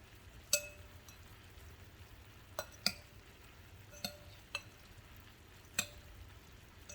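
A spoon or spatula stirs and taps against a pan of steak and food at a quiet level, giving about six sharp metallic clicks spread unevenly over a faint sizzle, with no speech.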